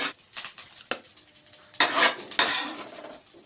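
A metal spoon scrapes and clinks against a pan in several uneven strokes, moving fried chillies, garlic and curry leaves onto a plate after the stove is turned off, with a soft sizzle underneath, close up.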